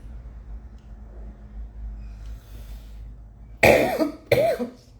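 A person coughs twice in quick succession, close and loud, after a stretch of quiet room hum.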